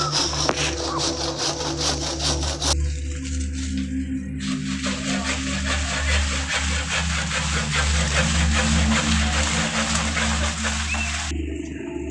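Rapid rhythmic rasping strokes of a hand saw cutting through a longan tree branch, loud and close, continuing steadily with a brief pause partway.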